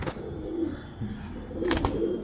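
Low, muffled cooing from Madras pigeons runs throughout at moderate volume, broken by a couple of brief sharp clicks or flutters near the start and late on.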